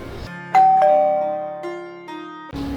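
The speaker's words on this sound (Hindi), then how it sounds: "वो फिर घंटी बजी" Doorbell ringing with two ding-dong chime tones that ring out and decay, followed by a third strike near the end, loud and close with no voices.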